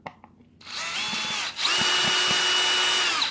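A DeWalt cordless drill spins up to back out a screw, a steady high motor whine that steps up in pitch and strength partway through, loud and close with no talk over it.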